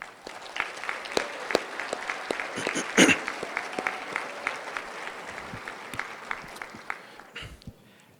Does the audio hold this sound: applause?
yes